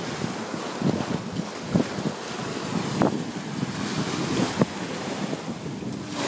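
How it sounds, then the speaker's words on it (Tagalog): Strong ocean waves at a beach, a steady loud surf wash with wind buffeting the microphone and a few brief thumps, constant throughout. "Halika na, malakas na yung alon."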